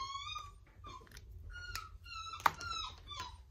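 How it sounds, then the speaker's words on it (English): A new puppy in the house whines and squeals in short, high, quavering cries, fairly faint and a little distant indoors, with a single sharper yelp partway through. "we've got a new puppy in the house that you can probably hear"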